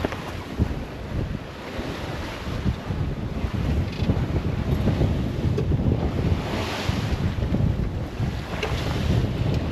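Strong wind roars across the microphone over steady crashing waves and hull spray as a heeled-over sailboat bashes through a rough Pacific passage, a rough, continuous rush from start to finish.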